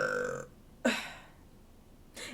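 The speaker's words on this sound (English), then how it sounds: "That burp was amazing." A loud, close burp rises and rasps for a moment after a short vocal sound, and another brief noise follows near the end in a quiet room.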